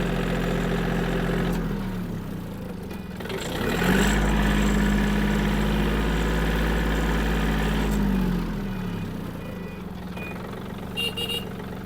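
A Yanmar F-210 Japanese mini tractor's small diesel engine runs steadily nearby, its throbbing hum deepening and strengthening for a few seconds as it works harder, then settling back to an even idle.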